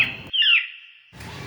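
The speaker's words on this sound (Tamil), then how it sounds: "என்ன எங்கேயோ கிளிக்கத்துற சவுண்ட் கேட்குது? ஃபோன் டாடு." A phone ringtone of a parrot's shrill squawk cuts in abruptly, rising and wavering for about a second over a low hum, then stops.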